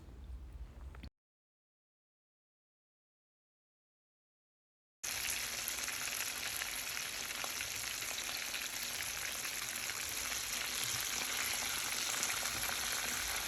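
Red snapper fish frying over a fire, a steady, dense sizzle heard close and fairly loud. It plays alone after a brief quiet opening and a gap of silence, then runs continuously without change.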